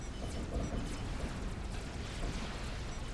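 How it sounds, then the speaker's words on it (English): Rumbling explosions from a large battle in the strategy game Forged Alliance Forever roll on continuously, a dense low booming wash with scattered bursts and no voices. "The explosions are beautiful"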